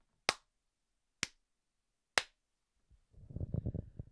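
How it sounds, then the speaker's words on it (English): Three sharp, evenly spaced hand claps about a second apart, loud and close in a quiet room, used to sync picture and sound; a brief voice follows after the third clap. "we're going to sync up the clapping now"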